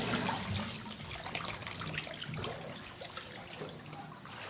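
Water sloshes and splashes steadily and fairly close during a baptism by full immersion, a continuous wash of moving water with no voices.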